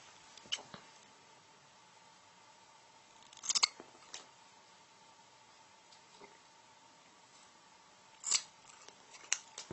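Scissors trim the excess cord from a Turk's head woggle, giving a few faint, close snips in small clusters over a quiet, faintly hissing background.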